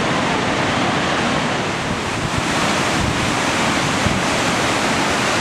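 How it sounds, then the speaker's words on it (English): Steady Brook Falls, a waterfall in Newfoundland, roars with a dense, unbroken rush of falling water that stays loud and even from start to finish, with no voices over it. "Steady Brook Falls."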